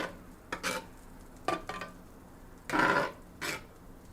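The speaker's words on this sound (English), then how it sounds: "And keep stirring up that sausage gravy," Sausage gravy being stirred in a pan over medium heat: several scraping, swishing strokes of a utensil against the pan, close and fairly soft, with brief pauses between strokes.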